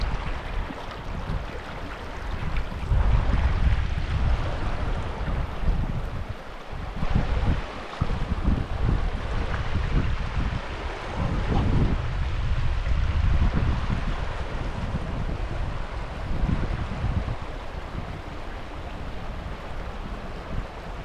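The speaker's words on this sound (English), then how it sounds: "Beautiful river running underneath it." River flowing beneath a natural stone bridge, a steady broadband rush of water with gusty wind buffeting the microphone, continuous and fairly loud with no voices.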